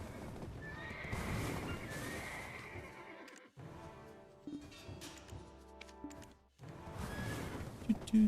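A horse in an online role-playing game whinnies loudly several times over steady clip-clop hoofbeats, with game ambience throughout.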